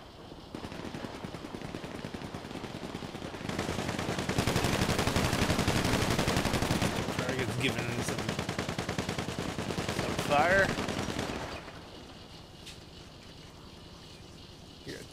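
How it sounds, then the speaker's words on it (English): Gunfire in GTA 5 during an assassination mission, a dense sustained rattle of automatic shots that swells in the middle and then drops away, heard over steady game ambience with no talk. "They're shooting the target."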